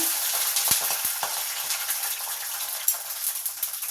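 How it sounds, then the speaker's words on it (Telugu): Green chillies frying in a couple of spoons of oil in a pan, a steady close sizzle with a few sharp pops and stirring clicks, no voices. "ఇప్పుడు పచ్చిమిరకాయలు ఫ్రై చేసుకుంటున్నా"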